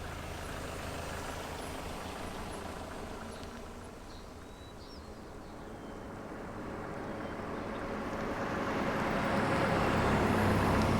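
A car driving in a Republic-era Chinese setting, a steady low engine rumble with road hiss that dips slightly midway and then swells louder toward the end, with no talking.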